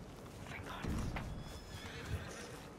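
A horse in the video game Red Dead Redemption 2 whinnies once in the middle, fairly close, over a steady background hum with faint hoof-like clatter.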